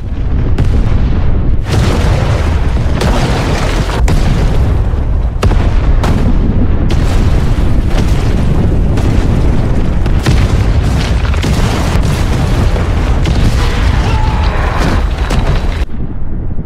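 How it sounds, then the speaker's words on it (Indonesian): Loud, deep booms and rumbling blasts of a tunnel explosion in an action film roll on continuously, with repeated heavy explosions and crackling debris, sounding close and overwhelming. "Om John kemudian meledakkan terowongannya"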